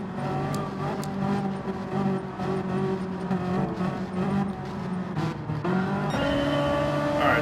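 A Ferrari race car's engine drones steadily in a Gran Turismo 7 daily race, with sustained harmonic engine tones that shift in pitch as it accelerates and changes gear, loud and continuous throughout.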